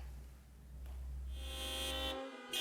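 Car horns honking in a street protest by postal workers in Valladolid, a sustained blaring horn tone layered with others, fairly loud and continuous, then cutting off briefly before resuming.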